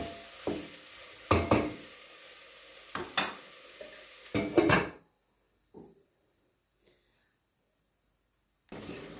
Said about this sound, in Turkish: Şimdi bunu da karıştıralım.